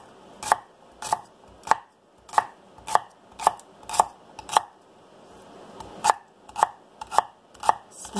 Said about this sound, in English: I'm just going to cut these.